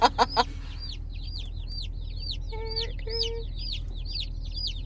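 Many baby chicks peep continuously in high, rapid chirps, close and loud, with a brief cluck and steady low hum beneath.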